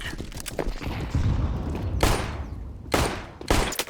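Grenade blasts boom in Counter-Strike on the Inferno map, with several sharp, broad bursts among rapid gunfire cracks, close and fairly loud, with no talking.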